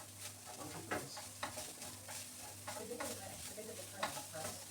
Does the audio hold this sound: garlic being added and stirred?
yes